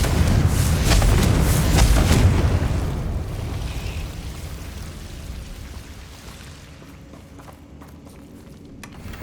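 A loud blast from the Confringo fire spell in Hogwarts Legacy bursts out at the start, then a rumbling roar gradually fades over several seconds into quieter game ambience.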